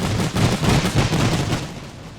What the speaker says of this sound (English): The machine guns have opened fire.